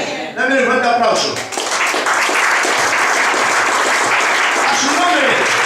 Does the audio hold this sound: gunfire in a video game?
no